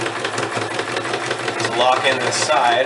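A sewing machine runs steadily while stitching a folded strip of old shirt fabric, its fast mechanical whir continuous throughout the short stretch under a person's talking.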